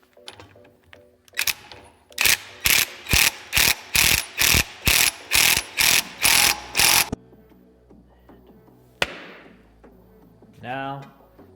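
A ratchet wrench torquing lug nuts onto new wheel studs on a Toyota Corolla TE72: about a dozen loud, evenly spaced clicking pulls in a row, followed by a quieter pause and a few scattered metallic clicks.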